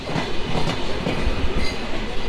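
Chilahati Express passenger train in Bangladesh running on rails near Dhaka airport, a loud continuous rumble of wheels with rhythmic clicking over the track, heard up close from on board.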